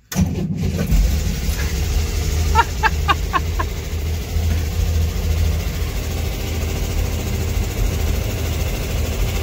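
The engine of a 1964 Chevrolet Corvair, just fitted with a newly installed cylinder head, catches and then settles into a steady, throaty idle that stays loud and close, with a brief burst of rattling ticks early on.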